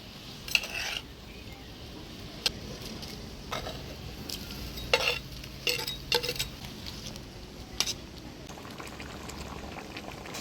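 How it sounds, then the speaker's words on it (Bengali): Fried fish going back into a pan of simmering curry with a little water, in a village-style fish chorichori with greens stalks, eggplant and small potatoes; steady bubbling sizzle runs throughout, broken by several sharp clinks and scrapes of stirring. "এবার ভাজে রাখা মাছগুলো দিয়ে দিই।"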